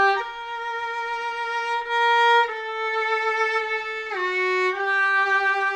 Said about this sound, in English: And here's the sound of the ribbon mic.